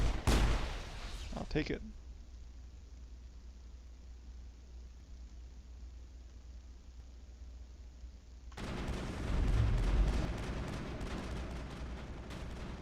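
Gunfire in the sci-fi shooter Mass Effect on the moon Luna: a loud burst of shots at the start, a long quieter stretch, then more heavy firing near the end, with someone talking briefly.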